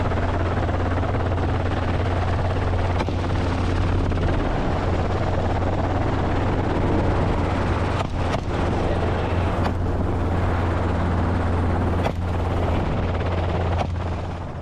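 Helicopter flying during a feral hog hunt, a steady loud rotor drone with low throbbing that holds throughout, close and continuous with wind buffeting on the microphone.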